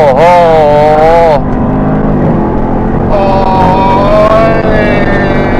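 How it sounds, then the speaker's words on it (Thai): A Bentley Continental GTC fitted with a Remus exhaust revs hard, its engine drone holding steady beneath loud, excited voices that exclaim over it. "เดี๋ยวเราลองเร่งเครื่องดูนะ"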